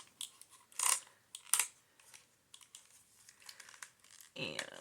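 Scissors snip through tape on a Rolodex card during Christmas crafting: a few short, crisp cutting and crinkling bursts, close and fairly quiet, with soft handling noises between them and a louder rustle at the end.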